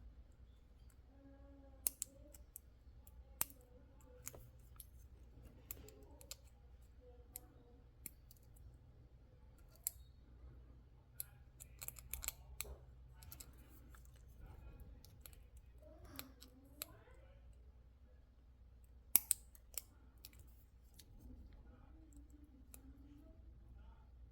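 Small scissors snip at sharp edges in sparse, separate cuts, crisp clicks spread across a quiet room with occasional faint speech between them.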